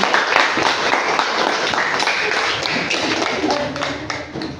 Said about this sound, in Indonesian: tepuk tangan buat Kiran